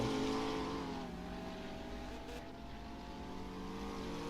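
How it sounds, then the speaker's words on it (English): Race cars driving down a straight at a racing event, a steady engine drone fairly distant and moderately loud, gradually fading slightly, with no talk. "Cars now make their way down the straight and into Sector 3, or into Sector 2"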